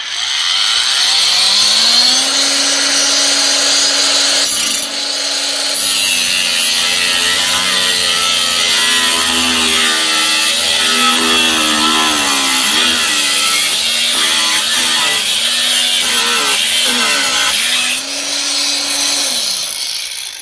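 Battery-powered cutting and grinding tool spinning up with a rising whine, then a loud, continuous abrasive cutting screech of about twelve seconds with a wavering pitch, before spinning down again; close and without talk.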